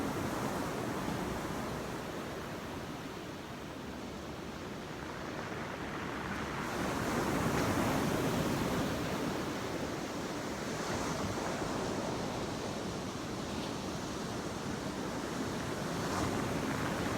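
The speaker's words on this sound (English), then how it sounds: "the exhale becomes audible. So it sounds like the waves crashing on the beach." A long, steady, breathy hiss of Ujjayi yoga breathing, an audible exhale from the back of the throat, swells and fades softly like surf, with no talking.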